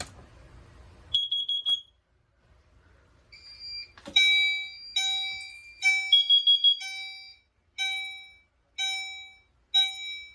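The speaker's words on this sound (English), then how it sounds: "We're actually going to do the CO detector first." A carbon monoxide detector on a Potter PFC 4064 fire alarm panel system sets off a loud electronic alarm: a few initial chirps, then a steady series of bright, pulsed tonal beeps repeating in a regular rhythm close by.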